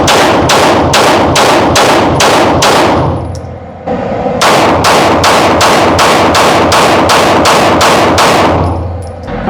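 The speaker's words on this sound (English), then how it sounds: "let's go ahead and shoot these and then talk about that" Glock 19 and Sig P226 MK25 pistols fire in rapid, evenly spaced shots, loud and sharp, in two strings of about seven and eleven rounds separated by a short pause, with no talking.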